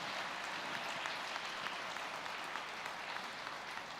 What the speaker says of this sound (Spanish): Eso merece un buen aplauso